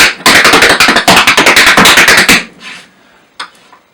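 Quick, crisp tap shoe strikes on a hard floor rattle off in a fast, even run for about two seconds before breaking off. A few faint scuffs follow.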